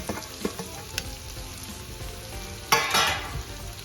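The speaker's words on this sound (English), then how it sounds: "Okay, now everything on high. I put all my vegetables in." Vegetables stir-frying in a wok over high heat for Singapore noodles: a steady sizzle with a few light clanks, then a louder burst of hissing as more food hits the hot pan near the end, with no talking.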